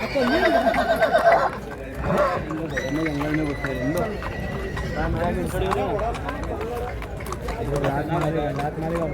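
A horse whinnies loudly near the start, with hoofbeats and a busy crowd of voices talking over the rest, at the Dussehra horse market in Yeola, Maharashtra.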